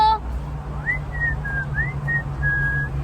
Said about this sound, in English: you could whistle,